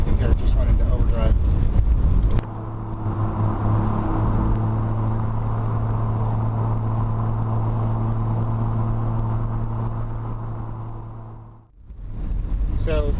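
A 1973 Triumph TR6 cruises in overdrive, its engine making a steady, even drone with a constant hum heard from inside the car. Talk is heard briefly at the start and again at the end.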